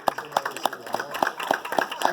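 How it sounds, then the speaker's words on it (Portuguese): Rhythmic clapping for Judge Ciro Darlan at an OAB legal event, steady claps about every quarter second over a murmuring crowd, moderately near. "Mais uma salva de palmas para o desembargador Ciro Darlan"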